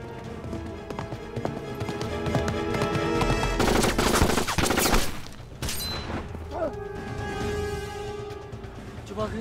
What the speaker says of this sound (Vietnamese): Tiếng súng 98K, Hà Lão Thất đến rồi.